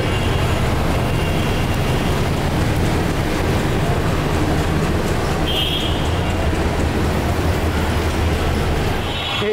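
A train passes the busy Khilgaon rail crossing on a damp, overcast day, a steady loud rumble and clatter of wagons filling the whole stretch, with traffic noise mixed in and no one talking.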